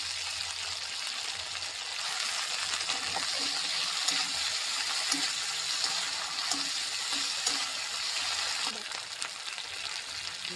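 Spice paste of tomato, ginger and ground cumin sizzles steadily in a pan on a gas stove, a continuous bright frying hiss with faint scraping stirs now and then, no talking.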